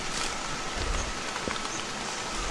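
Heavy rain pouring steadily outdoors at night, a dense continuous hiss of drops with faint scattered taps, close and even throughout.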